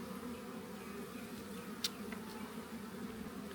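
Honey bees hum steadily inside an opened hive, a close, continuous drone with one brief sharper buzz as a bee passes near.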